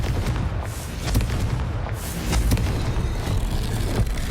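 The Confringo fire spell in Hogwarts Legacy lands as a series of loud, rumbling blasts, several heavy booms hitting over a few seconds against a constant low roar, with no voices.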